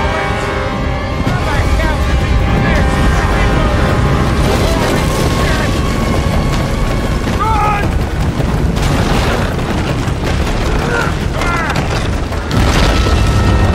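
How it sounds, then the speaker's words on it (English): Loud, continuous rumbling and crashing of a building collapsing in the Uncharted 3: Drake's Deception finale, with debris impacts and booms throughout and shouted voices mixed in. "The whole place is coming down!"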